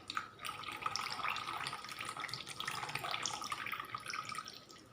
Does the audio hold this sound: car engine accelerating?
no